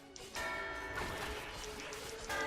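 A tolling bell rings out in the MediEvil remaster's Asylum Grounds level, with sustained ringing tones repeating over a steady game backdrop, moderately quiet and without talk.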